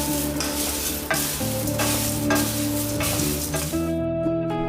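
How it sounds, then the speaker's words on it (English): Cornflakes namkeen snack being stirred in a pan, a steady scraping and rustling of dry flakes with light sizzling throughout, close and fairly loud, with no talk. "The sound of these cornflakes namkeen was appetizing in itself."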